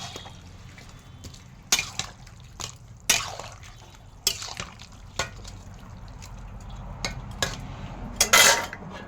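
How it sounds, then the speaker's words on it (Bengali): A cooking pot for sukto gets clanks and knocks of a metal lid and utensils, several sharp hits scattered over a low background hiss, with a louder clatter near the end. "এবার আমি ঢাকনা দিয়ে দিলাম।"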